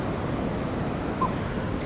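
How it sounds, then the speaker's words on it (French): Wind blows steadily across a beach, a continuous, even roar of rushing air with a faint wash of surf beneath it and no voices. "on partira quand on en aura marre de ce vent"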